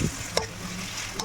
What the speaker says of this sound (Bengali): আদা রসুনের পেস্ট, লঙ্কা কুচি সব কিছুকে দিয়ে আমি ভালো করে মিক্সড করে নিচ্ছি